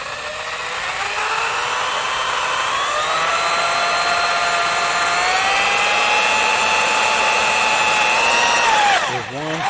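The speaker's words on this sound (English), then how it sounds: "Got my step drill bit in there." A power drill whines loudly and steadily as a step bit cuts through a fabricated metal shifter mount, pitch rising slightly, then winding down at the end.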